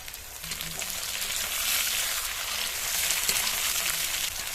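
Continuous crackling sizzle of spices and chopped tomato frying in oil in a pan. The sound swells a little at times and carries on steadily without any voices.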